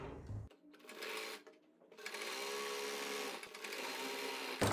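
A sewing machine stitches an umbrella palazzo seam on the inside with a half-inch margin, running in steady bursts with a brief pause, its motor whirring close and clear with no talk.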